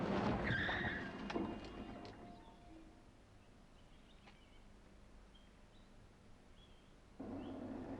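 A car brakes hard and its tires skid loudly in the opening seconds, fading into a quiet stretch before a low rumble returns near the end.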